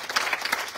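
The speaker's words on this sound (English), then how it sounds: "Clap for Jesus." Applause from a school audience of children and adults at a charity event, a brief burst of dense clapping filling the moment at moderate loudness.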